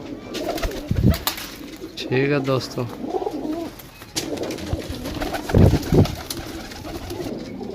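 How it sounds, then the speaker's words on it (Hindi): Pigeons coo in low, throaty bursts at close range at a pigeon sale in Sarialamgir, Jhelum, with someone talking over and between the calls. "कबूतर है"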